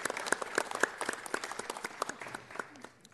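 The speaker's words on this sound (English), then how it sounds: "Let's give them a round of applause." A small council meeting audience claps, the individual hand claps distinct and fairly close, with a few louder claps standing out before the clapping thins and fades.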